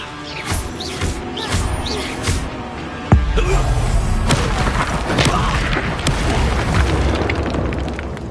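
Spell explosions burst during combat in the Hogwarts Legacy video game: scattered booms and pops, then one sharp heavy blast followed by a dense, continuous rumble of crackling impacts.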